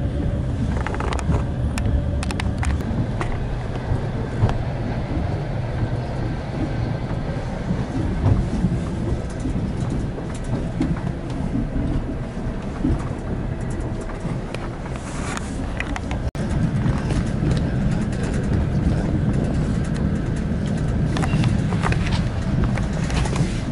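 A Kazakh railway passenger carriage rolls steadily along the track on a cold ride, with a continuous low rumble and rattle, clacks of wheels over rail joints and faint creaks throughout, loud and close from inside the car.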